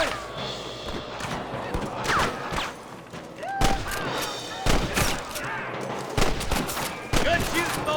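Gunfire from a shootout in the video game Red Dead Redemption: repeated sharp rifle and pistol shots crack out irregularly in bursts, loud and close, over a busy ambient background.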